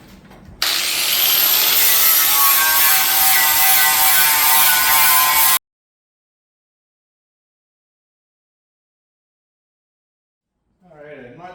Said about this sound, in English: let's see how long it takes to get the rest off the flapper wheel here